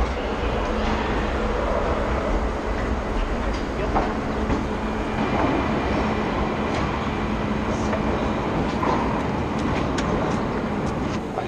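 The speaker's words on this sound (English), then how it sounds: "My train has arrived." A train pulls into a station on the Porto to Lisbon line, a loud steady rumble of wheels and rail noise filling the whole stretch, with faint voices underneath.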